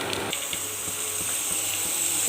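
A pressure cooker hisses steadily as tender jackfruit cooks for a curry. The steam makes a continuous, fairly loud hiss with faint rhythmic ticking underneath.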